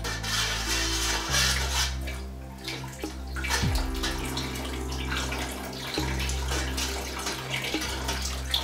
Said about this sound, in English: So what I'll do, just pour it in slowly in here.